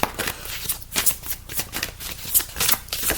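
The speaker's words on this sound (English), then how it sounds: "They're well shuffled anyway, so this isn't just off the top." A deck of colour cards being shuffled by hand, rapid riffling flutters in repeated bursts, close and crisp with brief pauses between passes.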